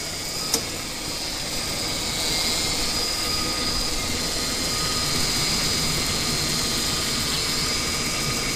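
A 2002 Ford Explorer's engine runs steadily after a timing chain repair, with a broad, even idle roar and a faint hiss, a brief tick near the start and no talk.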